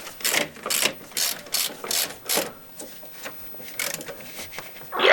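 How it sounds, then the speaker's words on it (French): A ratchet wrench tightening a bolt on a Peugeot car, a series of quick clicking ratchet strokes in short bursts, close and fairly quiet, with no talk. "J'ai vissé fort, mais pas trop fort non plus."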